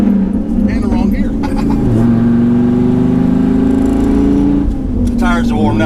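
A Dodge Viper truck engine roars loudly while driving, its pitch rising steadily through a gear as it accelerates, then dropping at a shift, with voices underneath.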